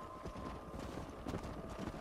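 Horse hooves clip-clop in a steady, quick rhythm while riding in Red Dead Redemption, a faint continuous trot with a slight breathy texture and no talk.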